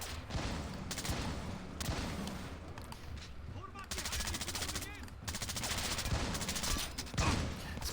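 Rapid automatic gunfire in the stealth shooter Splinter Cell Blacklist, bursts of loud shots repeating throughout, with someone shouting over the shooting.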